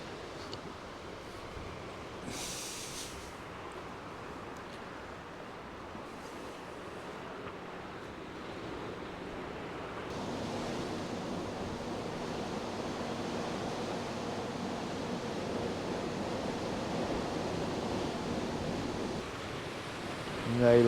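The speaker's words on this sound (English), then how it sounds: "show you how windy it is here at St Anthony's Head" Steady roar of wind buffeting the microphone over crashing surf at St Anthony's Head, a coastal headland in Cornwall, continuous and broadband, growing slightly stronger toward the end.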